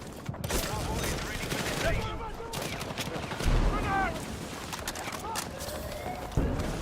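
AK-205 rifle fire in a Battlefield 6 close-quarters match: rapid bursts of shots mixed with dense game noise and busy background sounds.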